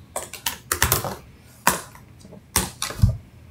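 Rapid clattering keystrokes on a computer keyboard come in short irregular bursts with pauses between them, close and clear, with no talking over them.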